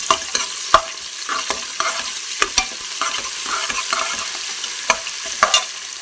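Ginger garlic paste frying with onions in hot oil for a mutton curry tempering: a close, continuous sizzle broken by repeated scraping strokes of a spoon stirring the pan, with no voices.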